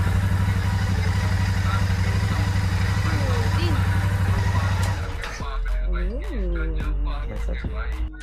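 A Royal Enfield 650 Classic motorcycle engine idles with a steady, loud low throb in South Korea, then cuts to quieter surroundings with scattered clinks and clatter.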